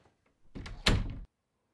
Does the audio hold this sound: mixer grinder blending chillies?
no